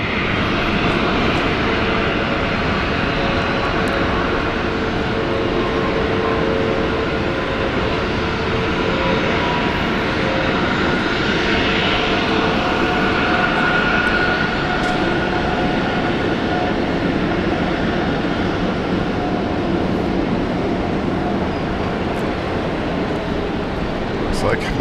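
An airliner arriving from Osaka at Brisbane International Airport gives a loud, steady, broad engine roar that holds throughout, with a voice talking over it.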